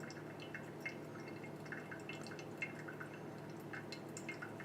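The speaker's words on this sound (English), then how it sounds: "I'm going to start pouring again." Water poured over coffee grounds in a V60 pour-over dripper, a soft continuous trickle with scattered small drips and splashes, quiet and close, with no talking.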